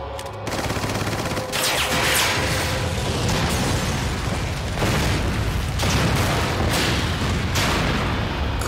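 Loud, continuous rumbling blasts and booming bursts from an explosion in Resident Evil 4 roll through the whole stretch, with crackling debris and layered explosive noise, dense and close.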